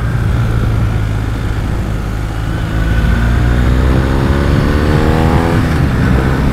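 A BMW R1250R motorcycle rides along on a commute, its engine droning steadily and loud with rising pitch as it accelerates, wind rush filling the background throughout, no talking.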